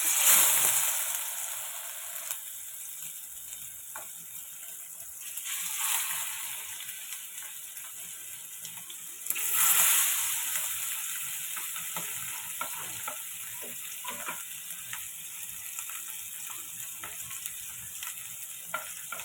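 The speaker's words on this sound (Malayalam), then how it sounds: "വെളിച്ചെണ്ണ നന്നായിട്ട് ചൂടായിട്ടുണ്ട് നമുക്കത് പുരട്ടി വെച്ചിരിക്കുന്ന മീൻ കഷ്ണങ്ങളെ ഇട്ട് കൊടുക്കാം" Marinated mackerel pieces fry in hot coconut oil, giving a steady close sizzle throughout with a few louder surges of spitting and crackling.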